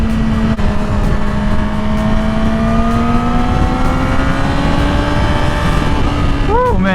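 Yamaha R6 600cc sport motorcycle accelerating in fourth gear, a loud steady engine tone rising gradually in pitch throughout, with close wind rush.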